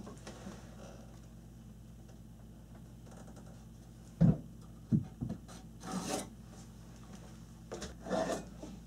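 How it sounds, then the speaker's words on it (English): Pencil or marker drawn along a wooden floor joist during a bathroom remodel joist-sistering job, heard as faint rasping scratches with a few sharper knocks, close but quiet. "I've got all my lines drawn on here"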